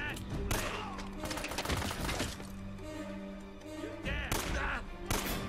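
Bursts of video game gunfire in Uncharted: Drake's Fortune, loud clustered volleys near the start and again toward the end, with quieter combat noise between.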